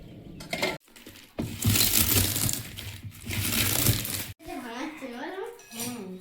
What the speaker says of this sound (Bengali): জলটা ফুটে উঠতে উঠতে আমি কচুটা গুঁড়ো করে আনবো।